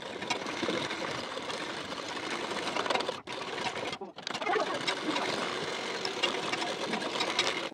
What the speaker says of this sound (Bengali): দাগ বরাবর করে ফিটিং সেলাই দিয়ে নেবেন